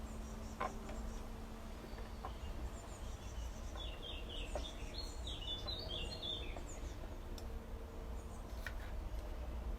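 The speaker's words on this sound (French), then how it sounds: "on entend les petits oiseaux" Small birds chirp outdoors in a scattered cluster of high, thin calls near the middle, faint and somewhat distant beneath a steady wind rumble and low background noise, with no one speaking.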